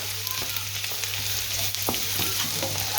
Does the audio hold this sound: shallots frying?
yes